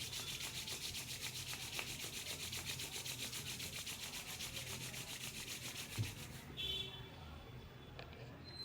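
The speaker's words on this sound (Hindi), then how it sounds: "तीस सेकंड तक हाथों को रब करते रहिए।" Hands are rubbed together palm to palm during a Jain Reiki meditation, a fast steady dry rasping that continues for several seconds before stopping, followed by soft movement.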